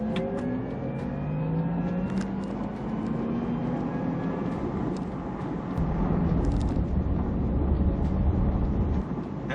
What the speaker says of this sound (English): there's something very futuristic sounding about that battery response, the sound that you get when you're accelerating